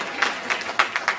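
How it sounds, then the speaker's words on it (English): A small audience claps at a special effects water tank show on a studio backlot tour at Disney-MGM Studios, a brief, sparse patter of hand claps in a few separate bursts. "Everybody give our brave actors a round of applause."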